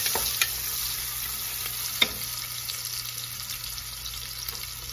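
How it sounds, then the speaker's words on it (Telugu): Onions tossed into a pot for a one-pot millet vegetable biryani, frying with a steady close sizzle while a utensil scrapes and stirs, a sharp clink standing out midway. "ఇది వేగగానే ఆనియన్స్ వేసేద్దాం వేసి కలపండి బాగా"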